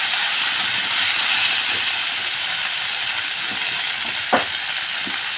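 Spice paste of cumin, coriander, ginger, onion, garlic and chilli fries with meat and onions, a loud, steady, close hissing sizzle with an occasional faint knock.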